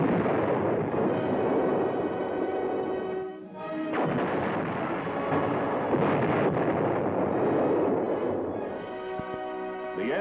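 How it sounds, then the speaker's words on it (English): Heavy booming blasts from an M60 Patton tank's 165mm cannon roll under a dense rumbling din, with deep thuds and sustained roar, like distant large-gun fire in combat exercises. "A 165mm cannon, designed to fire at short ranges with extreme accuracy"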